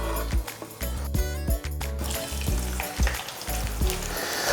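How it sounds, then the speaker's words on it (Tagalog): Sliced potatoes fry in hot oil for a Spanish tortilla de patatas, giving a loud, dense sizzle with bubbling crackles and occasional bumps, as if the potatoes are being moved in the pan. "So itong patatas ay ipiprito natin ng mga 10 minutes pataas."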